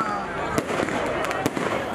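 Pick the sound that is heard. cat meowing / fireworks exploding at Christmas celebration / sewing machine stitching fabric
fireworks exploding at Christmas celebration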